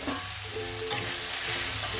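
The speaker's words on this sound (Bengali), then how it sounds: "আদা কাঁচা লঙ্কা আর হলুদ গুঁড়ো দিয়ে এটা ভালোভাবে এইভাবেই নাড়াচাড়া করবো" Chopped green chilli, grated ginger and turmeric powder frying in a pan while being stirred, a steady close sizzle with soft scraping strokes throughout.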